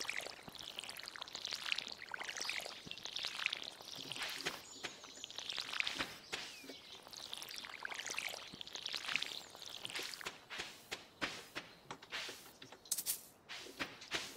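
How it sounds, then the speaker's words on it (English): Watering crops with a watering can in the Stardew Valley farming game: repeated short pouring splashes come in bursts, mixed with light footstep clicks and faint ambient birds, with no talking. "Well, back to watering now."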